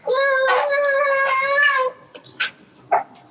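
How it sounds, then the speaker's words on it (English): A pet cat gives a drawn-out, wavering meow, loud and close, followed by a few shorter, fainter chirps and mews with quiet gaps between them. "that was my cat"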